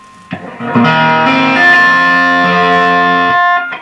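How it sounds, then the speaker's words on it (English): A Fender Blues Deluxe III guitar amp is played with the drive turned up and the master turned down, giving a loud, sustained, distorted guitar chord that rings for a few seconds with a strong, buzzing overdriven tone. "Turn the master down and the drive up, and should have a nice distorted sound"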